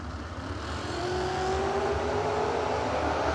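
Drag racing cars launching side by side down the strip at a Fall Fling event, a loud, steady engine roar that swells after the first second and holds, close and continuous with no talk.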